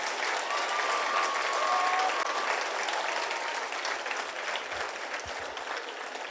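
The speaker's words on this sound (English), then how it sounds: "So give them a loud round of applause." Steady, loud applause from an audience at a women's college graduation ceremony, continuous clapping filling the hall and easing slightly toward the end, with no speech over it.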